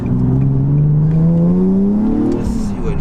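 A modified Nissan 370Z engine revs loudly and continuously, its hollow, droning tone rising and falling steadily up close.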